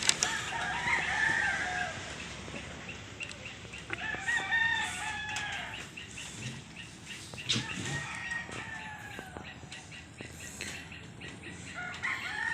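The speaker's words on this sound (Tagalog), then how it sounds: "Sounds ng ibon." Roosters crow and chickens cluck in the distance, with wings flapping and scattered bird calls across an open outdoor space in Timberland, San Mateo, Rizal.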